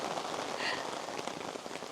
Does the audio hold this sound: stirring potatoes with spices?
no